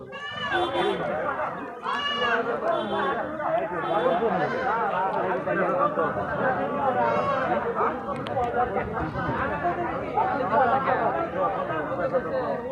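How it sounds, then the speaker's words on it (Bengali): Young crossbred goats bleating at the Boalia livestock market, many overlapping high, wavering cries close by, repeating constantly over a background of crowd chatter and people talking. "বাচ্চা ছাগল দেখেন কত সুন্দর"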